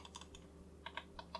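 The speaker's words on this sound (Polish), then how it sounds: "poklikajmy sobie boczne pod kciukiem, górne bardzo fajnie, leciutko klikają, ale z wyraźnym oporem" Light, crisp clicks from the side thumb buttons and top buttons of a Lorgar gaming mouse, pressed in a quick irregular series of close, fairly quiet taps over a low steady hum.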